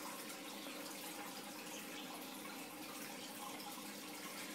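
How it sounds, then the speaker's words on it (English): Water pours and splashes steadily during an aquarium water change in an oscar fish tank, a soft continuous rush with no talking. "We're doing a water change today."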